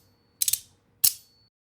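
A magnetic SNAP fidget slider by MOT gives a quick triple click followed by one sharp, loud snap, both close and crisp with silence around them.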